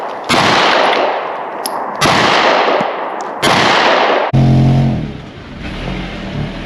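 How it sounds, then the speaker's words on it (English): Glock pistol shots at target practice during a Christmas Day mountain outing, three loud sharp reports evenly spaced about a second and a half apart, each with a fading echo, followed by a low rumbling engine. "Bring my Glock, and I'm just gonna shoot a few rounds."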